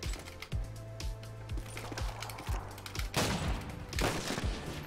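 Gunfire in Modern Warfare 2, played with the DSR sniper rifle, cracks in a rapid run of sharp shots, followed by a couple of louder blasts near the end, with a faint game soundtrack underneath.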